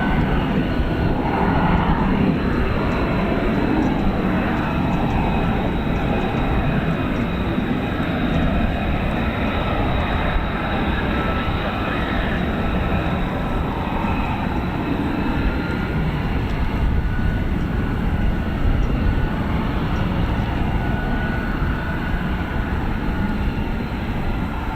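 F-35B stealth fighter jet taking off at RAF Marham, a loud, continuous broadband engine roar sustained throughout without pause, no voices over it.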